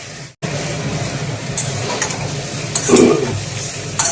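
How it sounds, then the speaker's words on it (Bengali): Jackfruit pieces frying in oil give off a continuous sizzle with stirring scrapes throughout, after a brief silence at the start, and a louder burst near the end. "ভেজে দিচ্ছি হালকা হালকা লাল হচ্ছে"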